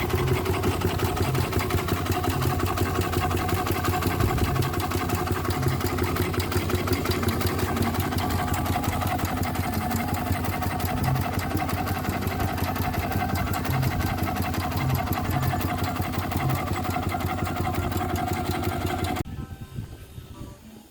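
A steam traction engine's valve gear runs with a steady mechanical chug in a fast even rhythm for about nineteen seconds, then abruptly cuts out near the end.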